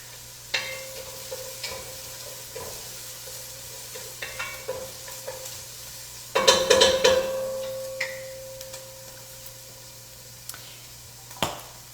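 Garlic stirred into a pot of veggie soup, with scattered spoon clicks and scrapes and a louder burst of stirring midway, over a faint sizzle, close by with no voices.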